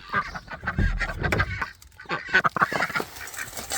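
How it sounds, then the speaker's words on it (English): Farm ducks quacking, several loud close honking calls in uneven bursts, overlapping one another with short pauses between. "Happy ducks."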